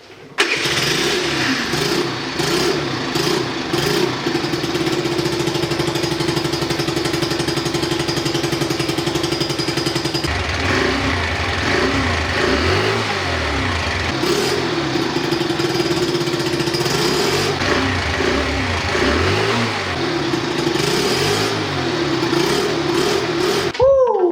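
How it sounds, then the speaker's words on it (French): A moped with a newly fitted aftermarket exhaust pipe runs loud and close, its engine revving in repeated rising and falling bursts over a continuous rattly idle. "Est-ce qu'il serait pas temps d'écouter le bruit de ce fameux pot?"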